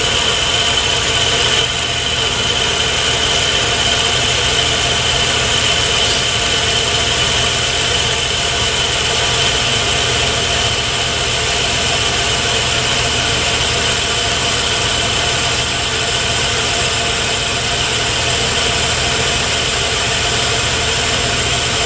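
A metal lathe runs steadily through a roughing cut, turning a diameter down to size, giving a continuous loud machine drone and hum with no pauses.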